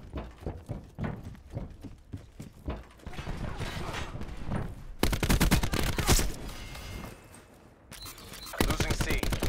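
Rapid gunfire from Call of Duty Black Ops 4 on the Ice Sub map, with repeated bursts of automatic shots and clicking weapon mechanisms, loud and close, mixed with game noise.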